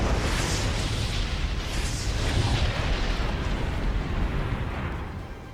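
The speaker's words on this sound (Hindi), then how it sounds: "ईरान ने सेंट्रल इजराइल में सेजिल मिसाइल चला दी। मिसाइल जहां गिरी वहां सब कुछ राख हो गया।" A long, heavy roar and rumble from an Iranian Sejjil missile strike in central Israel, loud and continuous for several seconds before easing slightly at the end.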